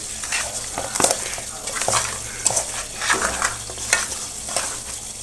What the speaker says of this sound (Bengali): এদিকে বেগুন ভাজা বসিয়ে দিয়েছি।